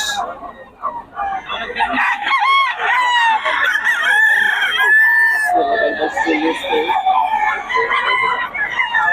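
Gilmore Sweater gamefowl roosters crow loudly and repeatedly at a rooster market in Bocaue, their calls overlapping with clucks and a busy crowd murmur throughout.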